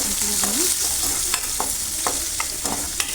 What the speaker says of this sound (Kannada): ಕಟ್ ಮಾಡಿ ಇಟ್ಕೊಂಡಿದ್ದೆ ಅದನ್ನು ಹಾಕ್ಕೊಳ್ತಾ ಇದ್ದೀನಿ ಅದು ಫ್ರೈ ಮಾಡ್ಕೊಳ್ತೀನಿ